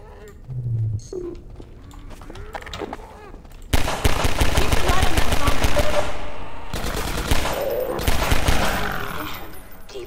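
Guns firing in the video game Half-Life 2 Episode One, a few quiet moments and game sounds giving way to loud, sustained automatic fire in long rattling bursts.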